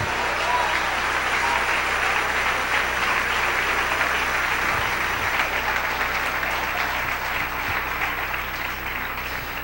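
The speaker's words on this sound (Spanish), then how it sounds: "Dele ese aplauso al Señor en esta noche." A church congregation claps loudly and continuously during an evening sermon, a dense sustained wash of applause with a faint hum running underneath.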